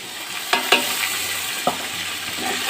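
A spoon stirs tomato with turmeric, cumin and coriander powder in a frying pan, a steady sizzle broken by a few sharp scrapes and knocks against the metal.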